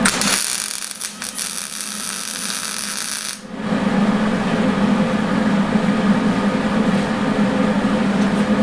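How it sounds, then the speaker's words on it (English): A welder runs steadily during body restoration of a 1966 Chevy Nova SS muscle car, giving a continuous buzzing crackle that shifts tone partway through and goes on without talk. "So we're going to fire up the welder."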